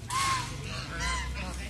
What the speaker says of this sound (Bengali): ওই যে হাঁস